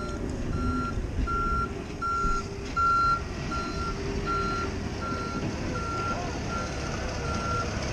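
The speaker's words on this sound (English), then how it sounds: "There's the trout truck." A trout stocking truck's backup alarm beeps steadily at an even rhythm, about a dozen tones over a continuous engine rumble and gusty wind noise outdoors by the Colorado River in Arizona.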